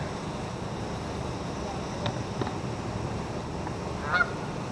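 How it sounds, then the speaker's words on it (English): A few faint, scattered Canada goose honks rise over steady wind and outdoor rumble, with a slightly stronger call near the end. "Canada geese here this morning."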